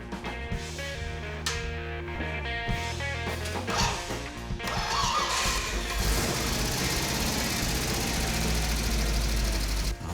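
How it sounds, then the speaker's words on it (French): A vehicle engine runs continuously, a low rumbling idle with steady harmonic drone that grows heavier and rougher in the second half, with no talk over it. "Entendre le son d'un véhicule"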